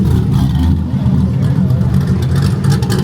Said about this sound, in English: That cammed Corvette, dude